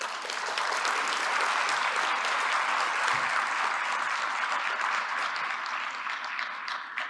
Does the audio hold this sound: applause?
yes